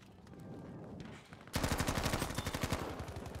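Gunfire from a video game weapon: after a quiet moment, a close, loud, rapid automatic burst of evenly spaced shots rattles on continuously.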